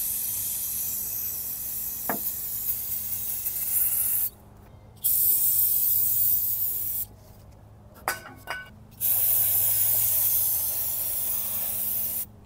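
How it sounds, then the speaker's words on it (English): Brake cleaner hisses from an aerosol can onto a gummy carburetor of a 1974 Honda Civic parked for 14 years, in long steady sprays broken by short pauses, loud and close. "I'll hit it with brake clean and see where we're at."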